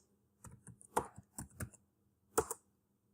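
A few short bursts of keystrokes tap on a computer keyboard, quiet and close, with brief pauses between clusters of clicks and no talking.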